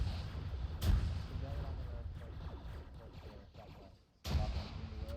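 Heavy gun or mortar firing in a military video game, two loud booming shots about three and a half seconds apart over a continuous rumbling battle bed, with voices talking throughout.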